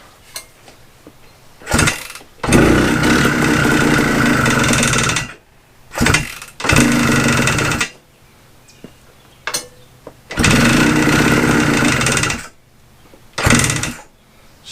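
A Suzuki TS185 motorcycle engine fitted with a homemade muffler runs close by after a rebuild, in several loud, rough bursts lasting a few seconds each, separated by short silences as it sputters and cuts out.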